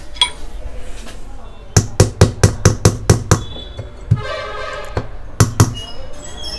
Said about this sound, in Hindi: इस पे रखने के बाद थोड़ा सा प्रेस करना है और थोड़ा इस पे हथौड़ी से मार के अंदर कर देना है थोड़ा